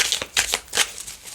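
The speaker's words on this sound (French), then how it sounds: "Elle glisse ces cartes, c'est incroyable" Tarot cards slide and shuffle against each other in a few quick, crisp swishes close by, with brief pauses between strokes and no talking.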